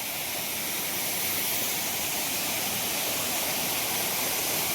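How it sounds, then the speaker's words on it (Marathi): Chapanya waterfall running with a heavy flow of water, a loud, steady, close roar of rushing and crashing water that fills the whole clip without a break. "बघा धबधबा."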